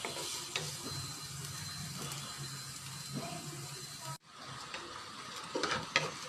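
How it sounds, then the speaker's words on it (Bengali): Onions and chillies fry in a pan with a steady soft sizzle while a utensil stirs and scrapes with scattered clicks and knocks throughout, fairly quiet and close, with a brief break partway. "পেঁয়াজ মরিচ হালকা ব্রাউন হয়ে চলে এসেছে"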